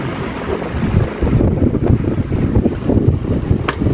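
A repaired electric fan, fitted with a new thermal fuse after overheating, blows hard at close range, a steady broadband rush of air buffeting the microphone throughout.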